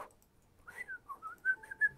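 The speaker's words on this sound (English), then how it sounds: "I don't whistle that good." A person whistles a short, wavering melody of several rising and falling notes, fairly close and alone with no talking.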